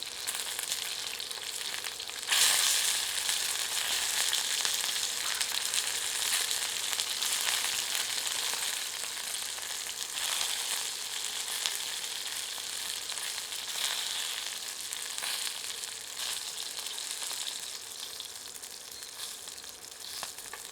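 Chicken pieces fry in hot mustard oil in a pan, a steady loud hiss and crackle of sizzling throughout with no talking.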